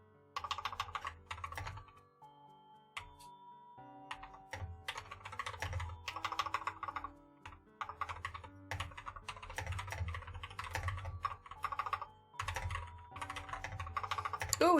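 A computer keyboard clatters with quick clicking keystrokes in uneven bursts and short pauses, close and clear without any voice.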